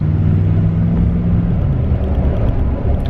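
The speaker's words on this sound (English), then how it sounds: "the sound that you get out of the TRD exhaust, the dual TRD exhaust" A Toyota Tundra pickup's dual TRD exhaust drones loud and steady with a deep, throaty rumble, close by and continuous, no voices.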